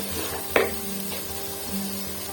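Spices sizzle softly as they roast in a pan for egg korma, a steady low frying hiss with one brief sharper crackle near the start.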